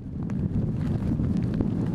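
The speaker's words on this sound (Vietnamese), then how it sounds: "trong cái điều kiện mà gió to cũng như là sóng lớn như thế này" Strong wind with heavy waves over a flooded village in Phong Trương commune during a storm, a steady loud roar of wind buffeting the microphone with rough water churning underneath, continuous for the full two seconds with no talk.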